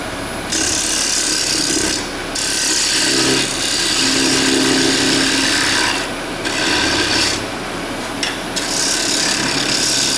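A simple rougher on a woodturning lathe cuts into the bottom of a wooden bowl with loud, harsh rasping scrapes that come in several bursts separated by short pauses.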